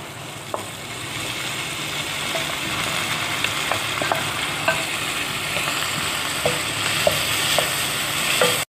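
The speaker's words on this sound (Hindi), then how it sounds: "तो कीमा तैयार हो चुका है, इसे मैंने 5 मिनट तक भूना है।" Keema and boiled lentils fry and get stirred in a pan with red chili and turmeric, giving a continuous soft sizzle broken by small scattered crackles and spatters, fairly quiet and close, with no voices.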